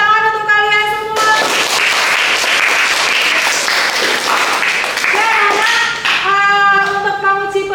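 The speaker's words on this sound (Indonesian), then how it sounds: "tepuk tangan untuk kalian semua" A classroom of students bursting into lively applause for several seconds, bracketed by short tonal chimes at the start and end.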